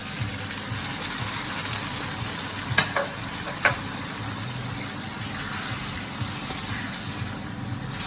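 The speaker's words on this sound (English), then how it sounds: "the yam is already cooking and frying in that beautiful onion and basil" Yam, onions and basil sizzle and crackle steadily in a hot pan up close, with a couple of brief clinks of a utensil stirring.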